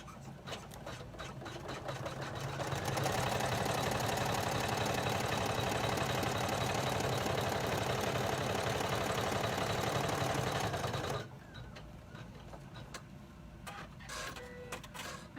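An embroidery machine top-stitches a key fob pouch, a rapid mechanical chattering hum that builds in the first seconds, runs steadily and loud, then drops off abruptly, leaving quieter intermittent clicks.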